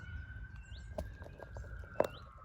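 A willow warbler gives soft alarm calls near a monitored nest in early summer, brief thin notes over a steady faint background tone and low rumble, with a couple of sharp clicks.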